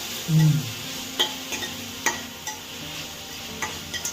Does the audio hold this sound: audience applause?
no